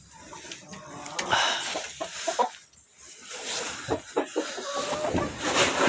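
Hens clucking inside a small chicken coop, two black and one red hen among them, soft overlapping clucks and a few louder squawks close by, steady and busy throughout.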